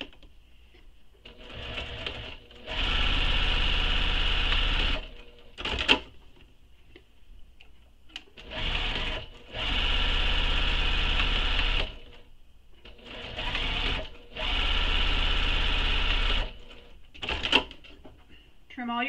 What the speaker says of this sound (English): So stitch down both long edges.